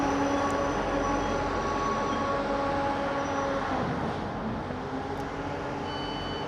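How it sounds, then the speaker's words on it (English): A train rumbles steadily close by, a broad continuous roar of rails and carriages with faint metallic squeals, no voices over it. "If you can hear me, the train's just showed up."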